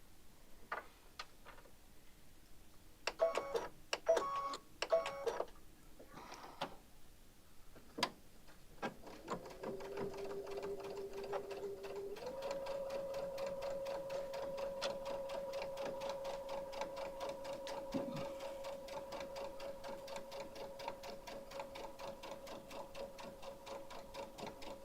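Several faint clicks and taps come first, then a sewing machine hums steadily and quietly at close range while stitching a tote bag, with its pitch stepping up partway through and no talk.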